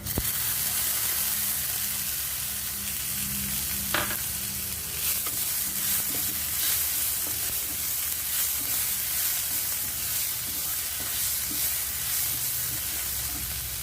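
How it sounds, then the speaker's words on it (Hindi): Tomatoes go into golden brown onions frying in a pan for karela kadhi, a dense close sizzle that flares briefly and keeps crackling with stirring sounds throughout. "प्याज हो गया गोल्डन ब्राउन, तो अब मैं इसके अंदर डाल रही हूँ टमाटर।"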